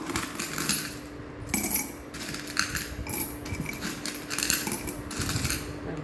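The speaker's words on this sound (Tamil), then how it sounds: "நல்லா சில்லறை காயின்ஸ் எல்லாம் எடுத்து நீங்கள் இது உள்ளே போட்டுக்கணும்" Loose change coins clink and jingle as they are dropped into a Kubera pot, a rapid series of metallic taps and rattles at moderate volume.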